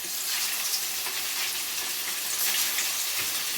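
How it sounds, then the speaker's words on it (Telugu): Fish pieces fried in hot oil for fish bajji give a loud, steady, dense sizzle that runs unbroken from start to finish, close up and with no voices. "నూనె అయితే కాగింది నేను వేసుకుంటున్నా వేపుకుంటున్నా"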